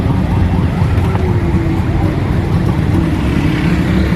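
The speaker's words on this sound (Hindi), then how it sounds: "यहाँ पर बहुत ज़्यादा ट्रैफिक जाम हो रहा था" Continuous road noise from cars stuck in a heavy traffic jam on the Karachi to Hyderabad highway, a dense steady rumble of idling and slowly moving engines close by with no clear pauses.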